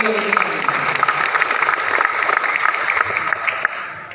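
Audience applause at a community gathering in Cirebon, a dense, steady wash of clapping lasting throughout, fairly loud and close, with some crowd noise mixed in.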